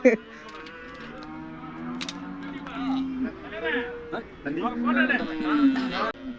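Cattle moo at a weekly livestock market in Namakkal, several drawn-out lowing calls rising and falling at close range, with people talking and market bustle mixed in.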